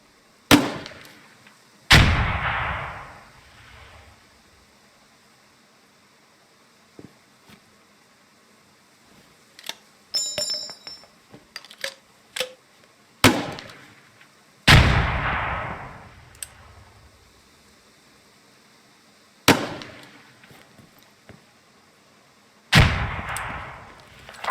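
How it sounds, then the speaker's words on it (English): Grenade launcher slung under a squad grenadier's rifle fires in a military video game: several sharp, loud thumping bursts with decaying echoes, spaced seconds apart, plus a few lighter metallic clicks and clanks between them. "Grenadiers in your squad carry a grenade launcher slung under their primary weapon."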